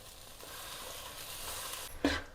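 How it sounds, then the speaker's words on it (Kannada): Banana flower palya frying in a pan with salt, garam masala and chilli powder gives a steady low sizzle throughout, with a brief louder scrape or stir near the end. "ಫುಲ್ ಫ್ರೈ ಆಗ್ತಿದೆ"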